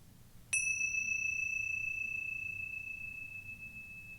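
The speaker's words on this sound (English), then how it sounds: "This practice will begin and end with the sound of a bell." A single clear meditation bell is struck once, then its pure tone rings on and slowly fades over several seconds in a quiet room.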